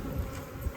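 Honey bees buzzing around beekeeping hives, a soft steady drone close by with no talk over it, brief and fairly quiet against the outdoor background.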